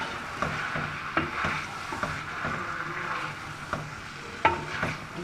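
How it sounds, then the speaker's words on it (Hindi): A spoon stirs ridge gourd into a frying tomato and chili masala in a pan, a steady close sizzle with rhythmic scraping strokes and no talking. "इसको अच्छी तरह मसाले के साथ मिक्स कर देंगे।"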